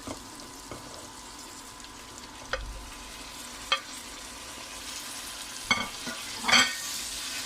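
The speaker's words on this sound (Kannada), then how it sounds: "ಟೊಮೆಟೊ ಕೂಡ ಹಾಕಿದ್ದೀನಿ. ಹಸಿ ವಾಸನೆ ಹೋಗುತ್ತೆ ಅಂತ ನಾನು ಫ್ರೈ ಮಾಡ್ಕೊಳ್ತೀನಿ ಸ್ವಲ್ಪ." Tomatoes, ginger, garlic and mixed vegetables frying in a pan for vegetable pasta: a low continuous sizzle punctuated by a few sharp spatula scrapes and clatters, the last one louder, with no talking.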